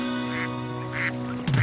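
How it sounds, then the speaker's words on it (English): Ducks quack in short nasal bursts, about three spaced calls over a steady tonal backdrop, with a louder sound at the end. "They're ducks."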